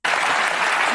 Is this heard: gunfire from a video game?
no